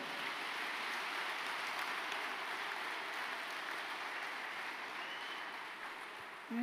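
Sustained applause from a church congregation at an evening service, a steady dense wash of clapping at moderate level that holds evenly throughout and tapers slightly near the end.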